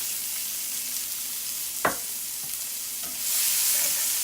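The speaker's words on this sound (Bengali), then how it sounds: "এবার দিয়ে দিচ্ছি পেঁয়াজ কুচি।" Chopped onion dropped into hot oil already frying asafoetida and cumin for a dhaba-style okra masala, giving a steady close sizzle with one sharp clatter partway and a louder hiss swelling near the end.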